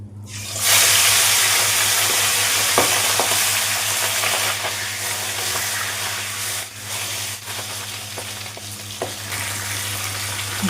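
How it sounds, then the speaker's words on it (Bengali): Fish head rubbed with salt and turmeric frying in oil in a pan for a mixed vegetable curry, a steady loud sizzle with crackling pops running throughout, no talking. "মাথাটাকে ভালো করে ভাজবো"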